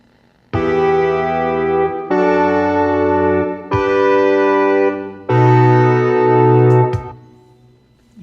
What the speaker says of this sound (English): A149 comp horns,